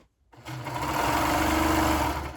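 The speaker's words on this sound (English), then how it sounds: "But my neckband, I'm just going to fold and sew along this edge here." A sewing machine stitches along a folded neckband edge, starting after a short silence and then running in a steady, fast, close mechanical whir until the end.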